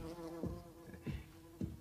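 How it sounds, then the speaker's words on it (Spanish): A wasp buzzes in a room during a scene from a Maigret detective drama, a steady droning hum with three short louder swells as it passes closer, under a faint ambient background with no talk. "Una avispa."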